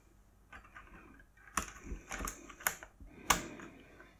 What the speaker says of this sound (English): The keys come away quite easily with the supplied keycap puller.